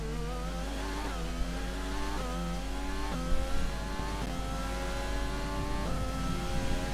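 Engine of an F1 race car in the F1 2020 video game during a wet French Grand Prix, a steady high-pitched whine rising and dropping through gear changes, loud and continuous with no talk.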